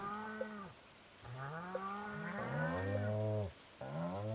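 Several cows mooing one after another in the farming game Stardew Valley, long drawn-out calls of varying pitch, close and clear with no talking.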